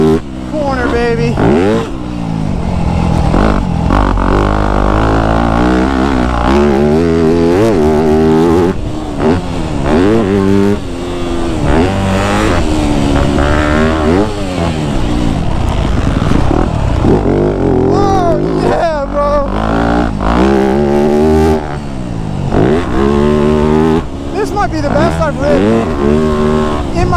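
A Yamaha YZ250F dirt bike ridden hard and fast: the engine revs up and down continuously with rising and falling pitch through acceleration and shifts, loud and close, while a rider talks over it.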